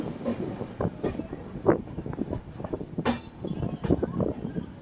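Hampi Express train with LHB coaches running between Mysore and Hubli, a steady rumble of wheels on rails with passing rattles and brief hissing bursts, heard from onboard.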